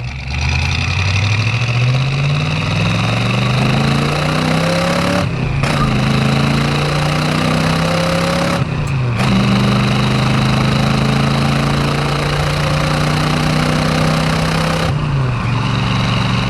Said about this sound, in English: you heard there we got a little second gear chirp